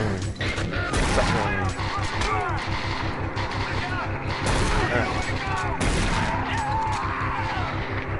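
A shotgun fires in Doom 3, with several loud, sharp blasts spaced seconds apart over a constant background of game ambience and a voice talking.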